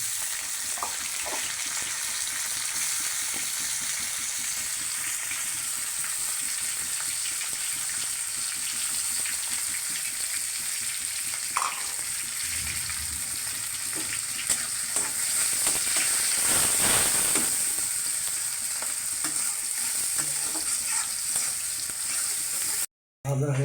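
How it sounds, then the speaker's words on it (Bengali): Onion and chili frying with garlic in a pan give a steady, fairly quiet sizzle throughout, with occasional stirring scrapes and a brief louder surge of crackling near the end. "রসুনটা ভাজা হয়ে গেছে এখন পেঁয়াজ মরিচ একসাথে দিয়ে দিবে"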